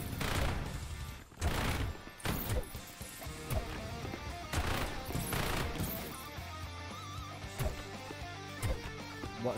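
A sentry gun fires in the roguelike game Repetendium amid crystal mining and enemy blasting, with repeated sharp shots and impact bursts spread across the whole stretch over a dense layer of game noise.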